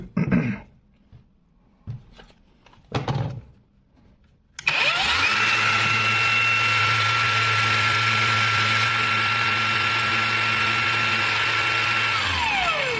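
An Einhell TP-AG 18/125 cordless angle grinder switched on at medium speed, about 6,500 rpm, giving a sudden steady high whine that holds loud and even after a few quiet clicks and handling noises.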